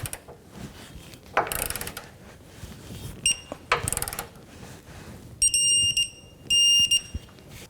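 A digital torque wrench ratchets in bursts while tightening the upper rear control arm bolt on a 2007-2014 Cadillac Escalade, then gives two sharp electronic beep sequences at the set angle, close and clear, with no talking.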